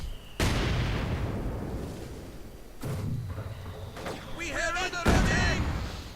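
Video game artillery fire from a heavy mortar and a field gun, with several loud booming blasts spaced a second or so apart, each trailing off, plus lighter crackling pops and game effects between them.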